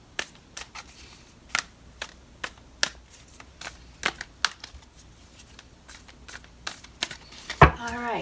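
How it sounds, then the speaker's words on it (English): Tarot cards snap and riffle in a string of sharp, irregular clicks, close up, ending in a quick flurry of fluttering card sounds. "We'll just keep shuffling."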